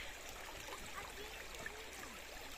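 Water trickles steadily from a mountain stream or fountain near a village road in the Aragonese Pyrenees, a soft continuous burbling wash at close range with no voices.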